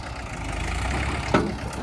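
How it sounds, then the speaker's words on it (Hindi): A tractor engine strains while its trolley is stuck in fresh soil in a village, giving a steady low rumbling drone with a brief louder knock near the end. "ओ भाई उठ गया ट्रैक्टर, फंस गई ट्रॉली, क्या ट्रैक्टर भाई।"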